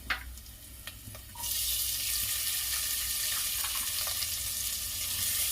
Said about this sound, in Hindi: इसमें मैं अब प्याज डाल रही हूँ।